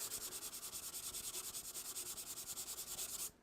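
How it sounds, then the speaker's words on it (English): Rapid, rhythmic back-and-forth scraping of a sanding sponge on drywall mud over a wall surface, close and steady, about eight strokes per second, then it stops. "we're gonna hit that with a sanding sponge I have down here"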